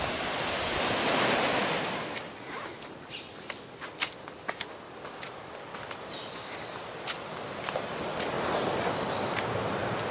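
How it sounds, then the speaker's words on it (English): Steady roar of ocean surf washing in on Pedro Gonzalez Island in Panama's Pearl Islands, with broadband wave noise and scattered crunchy footsteps across the sand; no voices. "Hear those waves?"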